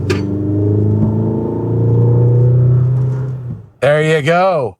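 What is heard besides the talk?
2025 GMC Canyon Denali truck engine while driving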